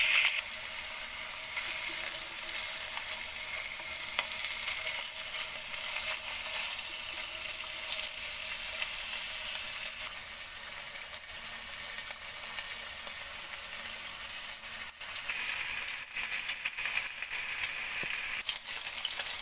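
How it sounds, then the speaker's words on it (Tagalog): Chicken fries in oil in a heated clay pot, giving a continuous loud, dense sizzle that holds evenly throughout at close range, with no voices. "Fry natin tong chicken hanggang sa mag-golden brown."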